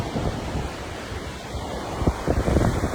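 Wind gusting at a Brazilian beach in winter, a steady loud roar of wind noise buffeting the microphone with surf washing underneath, strongest toward the end.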